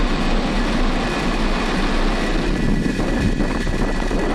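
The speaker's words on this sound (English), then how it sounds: "Ignition and liftoff of SDA." A SpaceX Falcon rocket ignites and lifts off carrying a Space Development Agency Tranche 0 payload. It sounds like a loud, continuous broadband rumble and roar that stays steady throughout, with no voices.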